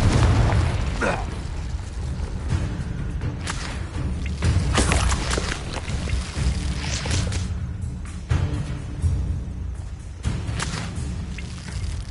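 An explosive Confringo spell in the Hogwarts Legacy video game, cast during combat against poachers, gives a series of loud, booming bursts and crackling blasts that recur over a dense, continuous rumble of battle noise.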